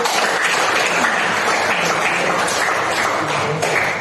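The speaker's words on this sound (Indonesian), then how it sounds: "Tepuk tangan untuk kelompok 1." Classroom applause for the first student group presenting, a steady dense wash of many hands clapping together for about four seconds at an even, fairly loud level.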